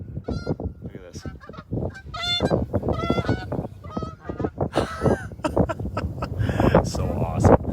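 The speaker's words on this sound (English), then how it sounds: "there's going to be some geese that fly right over us here" Several geese honk repeatedly as they fly low overhead outdoors, their calls loud and overlapping, with wind noise against the microphone and someone talking over them.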